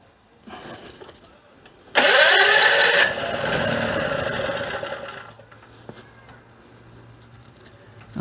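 A tri-fuel generator engine running on propane starts up with a sudden loud, rough burst, then settles into a steady mid-pitched running drone that fades lower toward the end, heard close with no talking.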